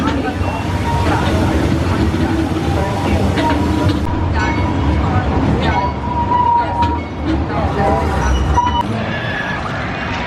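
A Dorney Park amusement park train ride in Allentown, Pennsylvania rumbles and clatters along steadily, with crowd noise and voices mixed in throughout, loud and close.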